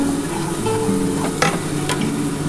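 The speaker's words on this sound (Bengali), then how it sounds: "এবার আমি টক দইটা দিয়ে দেবো" Sour yogurt goes into sizzling masala in a pan for a duck egg korma: a loud, steady frying hiss with a couple of sharp spoon clinks and brief bursts, close and without voices.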